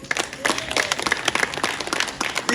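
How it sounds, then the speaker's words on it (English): A church presentation crowd in Buff Bay, Portland, Jamaica claps in a dense, steady burst of applause, many hands at once, continuing throughout with no voices standing out. "Clap your hands,"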